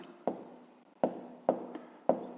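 Pen on paper during a fifth-grade math lesson, four sharp taps or strokes at uneven intervals, each followed by a brief soft scratching, close and fairly quiet.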